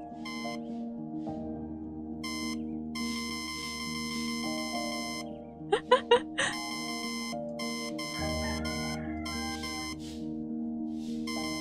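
Electronic beeping in the video game Until Then, with repeated tonal bursts over a steady synth background and a short cluster of sharper chirps near the middle.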